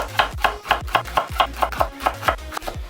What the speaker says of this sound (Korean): 모아서 1cm 간격으로 통통 썰어 주세요